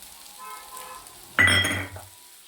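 Sabudana (tapioca pearls) is stirred as it fries in a pan, giving a short, close scraping sizzle that lasts under a second after a quiet lead-in.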